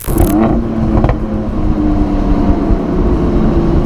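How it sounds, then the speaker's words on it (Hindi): A Mercedes-AMG C 43 on the move gives a steady, loud exhaust drone with a brief rev flare at the start, sustained engine rumble throughout and no talking. "अगर आपको एग्जॉस्ट नोट लाउड करना है, वेल्ट्रॉनिक है इस गाड़ी में"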